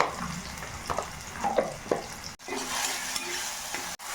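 Chopped tomatoes with salt cook in a pan with a soft sizzle and scraping stir strokes, a few clinks near the start, then a steadier hiss after a brief break.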